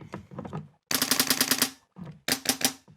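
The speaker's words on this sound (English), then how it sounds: "Plug your gun in, put it into fire, and shoot." A Polarstar F2 airsoft gun fitted in a G&G body fires in rapid bursts of sharp snapping shots, four quick strings with short pauses between, close and loud.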